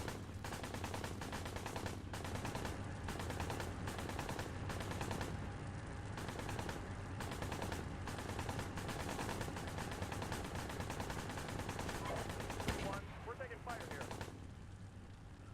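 Tank machine guns in the Steel Beasts Pro simulator keep up a constant rattle with heavier thuds mixed in, a long continuous barrage in the background while voices talk over it.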